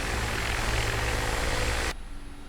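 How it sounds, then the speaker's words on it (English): A Mi-24P helicopter engine runs in DCS World, a loud, steady, dense roar that fills the scene and then abruptly drops to a quieter hum near the end. "And just like that, our helicopter is ready to take off."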